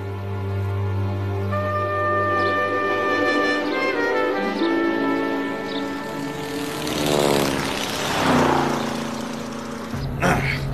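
Airplane engine droning in flight, a steady propeller hum with shifting pitch that swells and fades as it passes, loud and continuous, then cuts off abruptly near the end.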